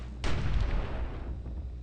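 A Mortar Dwarf unit fires in a tournament strategy video game, a single heavy booming blast that hits suddenly and trails off into a rumbling decay, loud and alone.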